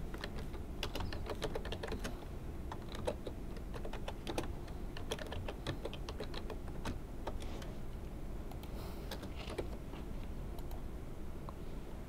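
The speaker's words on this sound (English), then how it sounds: "So I'll type in Roger." Computer keyboard keys clatter in quick irregular bursts of clicks, close and moderately quiet, continuing steadily with no talk.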